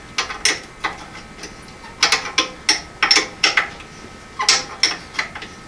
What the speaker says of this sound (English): This is just with hand tools, just with 2 Craftsman wrenches.